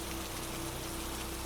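Steady rain falls in an even, unbroken hiss at moderate loudness, with a faint low hum running underneath and no voices.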